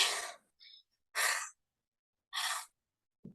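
Heavy, loud breaths through the mouth come in three bursts with short gaps between them, like panting after a run, followed by a brief softer sound.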